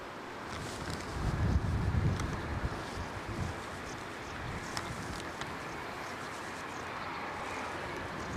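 Strong gusts batter the microphone outdoors at Edinburgh Airport, a heavy rumbling buffet that swells loudest early on and then settles into a steady roar, with no voices.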